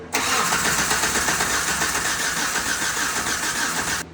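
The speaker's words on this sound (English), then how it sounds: "we'll see if the starter switch works or not" Suzuki Samurai with a swapped-in 2.0L engine cranking on its starter, a loud, steady, dense churning that runs without a break for about four seconds and then stops.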